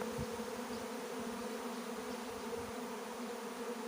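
Honeybee swarm buzzing as it settles toward a hive, a dense continuous hum of many bees heard close and steady throughout.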